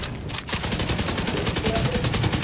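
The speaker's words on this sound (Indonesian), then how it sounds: "Awas, ada turret fire" A turret in Tom Clancy's The Division 2 fires in a rapid, steady automatic stream of loud, close shots that keeps on without a pause after a brief quieter start.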